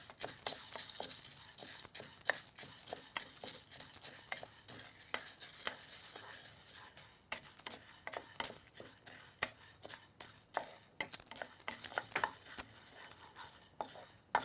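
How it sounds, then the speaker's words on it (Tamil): Ingredients for homemade dal powder roast in a pan as a spoon stirs and scrapes them, giving a quiet, quick run of dry clicks and scratches over a faint sizzle that goes on throughout, with no talking. "ஸோ இது பார்த்திங்கனாக்கா நல்லா இது வந்து ரோஸ்ட் ஆகிட்டுருக்கு"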